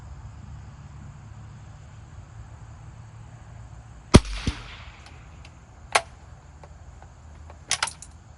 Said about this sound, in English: It's a number 2 Lee-Enfield 22 long rifle.